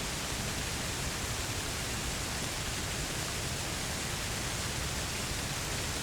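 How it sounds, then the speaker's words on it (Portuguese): A waterfall in the video game Red Dead Online roars as a constant, even rush of broadband water noise, loud and unbroken throughout with no other sounds on top. "Ficar ouvindo o som da cachoeira aqui."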